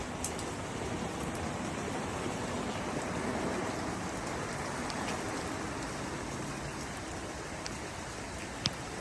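A summer rainstorm during Hurricane Hilary in 2023, with steady dense rain hissing and pattering on surfaces for the whole stretch and a few sharper drops standing out near the end, and no voices.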